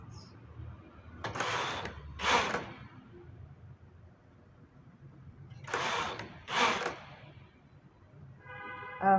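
A knitting machine carriage sweeps across the bed knitting acrylic yarn, making two pairs of loud mechanical clattering passes separated by quieter stretches, with a brief ratcheting rattle at the end.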